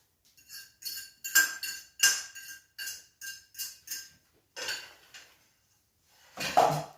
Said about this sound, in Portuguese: e agora eu vou mexer só no meio